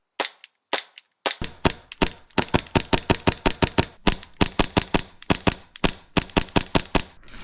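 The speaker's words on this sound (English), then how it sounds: "I got the pistol to cycle after switching some of the parts, but unfortunately not shoot BBs" An airsoft pistol cycling its action without firing BBs makes a long string of sharp, loud mechanical clacks, a few spaced shots at first and then a rapid, fairly even rhythm close to the mic.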